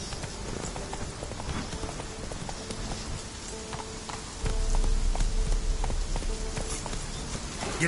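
Horse hooves clip-clop steadily at a riding pace through falling rain in the video game The Witcher 3: Wild Hunt, with rhythmic hoofbeats over a constant patter of rain that grows louder midway.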